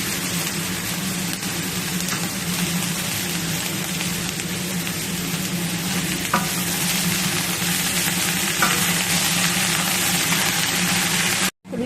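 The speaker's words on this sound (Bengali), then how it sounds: "সব একসঙ্গে ভাজা ভাজা হয়ে গেছে।" Onions and potatoes fry in a pan with a steady, close sizzle and crackle, while a utensil stirs them with a few scraping knocks; no one speaks.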